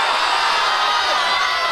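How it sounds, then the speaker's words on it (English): Crowd cheering for a weightlifter at a BUCS 2022 university weightlifting competition, a loud continuous roar of voices and shouts filling the short stretch without pause. "There's a lot of support, a lot of cheering"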